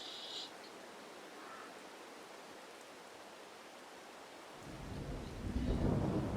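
Rain falls in Farming Simulator 22 as a soft, constant hiss. A low thunder rumble swells near the end, and no one speaks.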